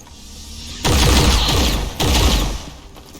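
Two heavy bursts of automatic weapon fire from the XCOM 2 game, each a loud booming rattle of roughly a second with rumbling low-end echoes, separated by a brief gap.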